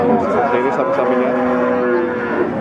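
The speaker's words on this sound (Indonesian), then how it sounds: "Ini sapi-sapinya." Cattle moo loudly and continuously at the Wirosari cattle market in Grobogan, Java, where PO cattle are traded, a close, drawn-out lowing with a steady harmonic tone throughout.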